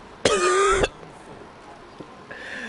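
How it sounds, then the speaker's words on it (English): One loud, harsh cough with a strained throaty tone, brief and close, followed by faint background noise and a small tonal sound near the end. "I don't know why I coughed after that"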